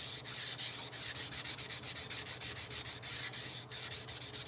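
Sanding with 400 grit sandpaper at a forge: rapid, even back-and-forth rubbing strokes, about five per second, close and loud with no talk.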